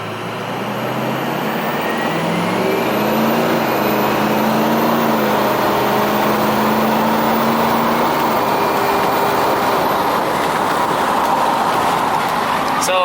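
A Ford 6.0 Powerstroke diesel engine spools its variable-geometry turbo at low RPM, a loud, steady roar with rising whistling tones that build and hold for several seconds.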